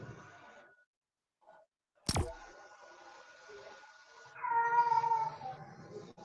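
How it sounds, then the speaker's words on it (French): A house cat meows, a drawn-out, wavering cry that rises loud near the end, preceded by a sharp knock and low room noise, with no speech over it. "C'est mon chat."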